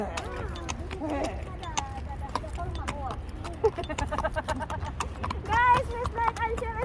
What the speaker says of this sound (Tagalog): Nakasakay na ako ng kabayo sa UAE.